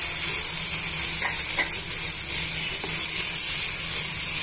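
Tomatoes and seasonings frying in a pan for a cucumber chutney, a steady loud sizzle with a few faint scrapes of a spoon, close and continuous.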